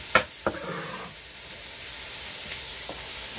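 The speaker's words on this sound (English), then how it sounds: "Now I'm going to add my carrots and my broccoli. That's frozen, so that's got to be sauteed down a bit." Frozen carrots and broccoli sauté in a pan with a steady soft sizzle, broken at the start by a couple of sharp knocks as the vegetables drop in.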